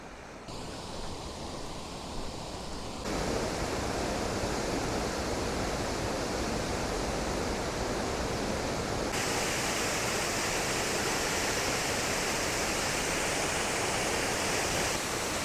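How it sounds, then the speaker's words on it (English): Water pours steadily over an old arch dam in a broad, loud waterfall roar that rises and becomes fuller and brighter partway through, continuous with no voices. "plenty of water coming over the dam"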